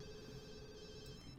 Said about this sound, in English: the phone is already ringing